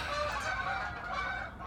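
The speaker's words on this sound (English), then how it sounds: "Tell the geese to be quiet" Geese honk continuously and loudly, a raucous overlapping chorus of calls close by with no talking.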